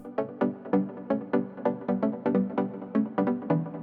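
A pluck synth plays its riff in even, bouncy short notes that follow a chord progression, loud and clean with no voices over it.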